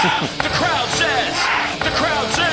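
A packed crowd at Wankhede stadium yells and whoops at a cricket match between England and Nepal in the World Cup T20, a dense, rising roar of many voices with overlapping cries as a batsman falls.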